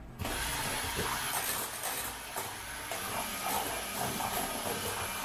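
A blender whirls New York-style cheesecake batter, its motor starting abruptly and holding a loud, steady, slightly rattling whir throughout, with no talk.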